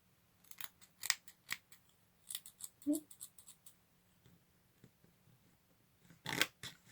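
Small scissors snipping through paper, a quick series of crisp, close cutting clicks in irregular bursts, quiet overall, with a brief murmur of a voice in between.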